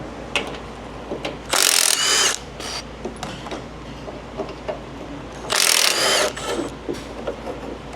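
Power tool and ratchet socket wrench working bolts off the lift arm of a Silverado truck, with loud bursts of whirring at two points and clicking, clattering mechanical sounds in between.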